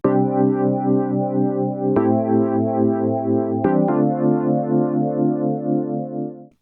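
Sustained processed synth chords from an FL Studio track, panned to the left of the stereo field and lightly EQ'd, hold steady with a few sharp chord changes, loud and alone until a brief fade at the end.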